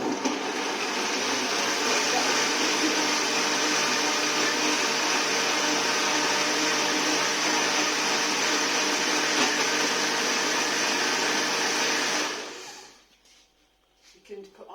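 A smoothie blender in a home kitchen runs loud and steady for about twelve seconds, a dense whirring motor drone that then cuts off abruptly and winds down into near silence.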